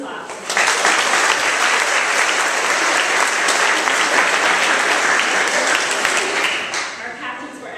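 Sustained applause for a varsity basketball team at a school student recognition day, dense steady clapping from a large audience that holds loud for several seconds and then tapers off toward the end.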